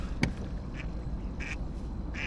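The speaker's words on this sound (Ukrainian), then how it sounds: "Качечки." Ducks quack on a lake at sunrise, several short nasal calls spaced through the clip over a steady low murmur of water and a boat.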